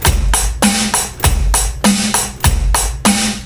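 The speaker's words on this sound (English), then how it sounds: "A typical drum beat will sound like this." Drum kit playing a steady beat, kick on one and three, snare on two and four, with hi-hat and cymbal washing over each hit, close, loud and evenly repeating.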